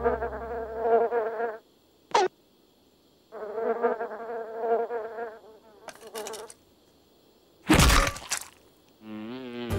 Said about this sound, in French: harcelé par les mouches qui s'agglutinent sur mes plaies purulentes